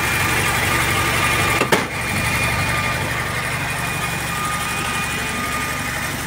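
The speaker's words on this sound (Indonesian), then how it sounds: "Mesin masih aslinya, masih suaranya juga tidak terlalu kasar." An old car's original engine idles steadily at close range with a low, even rumble, broken by one brief knock partway through.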